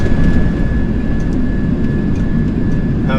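Boeing 737 jet engines roar with thrust reversers deployed during landing, a loud steady broadband engine rush with a faint high whine, continuous and close with no talk.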